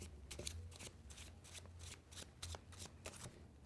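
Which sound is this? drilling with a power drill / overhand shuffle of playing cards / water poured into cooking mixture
overhand shuffle of playing cards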